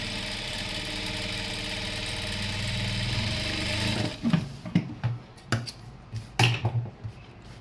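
A sewing machine stitches a chudithar pant with a steady mechanical whir for about four seconds, then quiets to a series of short clicks and taps as the stitching stops and starts.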